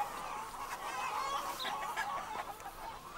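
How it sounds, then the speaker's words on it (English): A flock of farm chickens scratching through cow patties clucks and murmurs continuously nearby, a busy layered chatter of soft calls with a few sharper squawks, and no voices over it. "the chickens scratch through the cow patties, eat out the fly larva"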